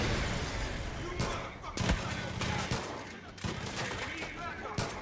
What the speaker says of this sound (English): Where am I being shot from?